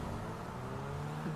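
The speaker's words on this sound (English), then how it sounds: "Sorry, guys, my car won't go any faster." A car engine in GTA 5 drones and revs faintly with a continuous low whir, steady and fairly distant-sounding, with no talking.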